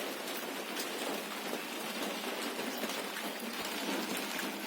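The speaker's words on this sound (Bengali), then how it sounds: "সকাল থেকে বৃষ্টি এখনো থামছে না, বৃষ্টি হতেই আছে।" Heavy monsoon rain pours down in a dense, unbroken hiss of drops on surfaces, steady and fairly close, with no voices.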